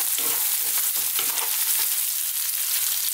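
Onion for aloo gobi hits a hot pan and fries with a loud, dense crackling sizzle, with a few quick stirring scrapes near the start.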